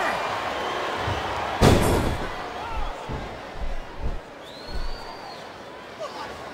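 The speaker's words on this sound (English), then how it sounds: "This capacity crowd is making their opinions known tonight." A capacity wrestling arena crowd at a WWE event reacting loudly, with a sharp slam-like bang and bursts of cheering and noise rising and falling over continuous crowd murmur.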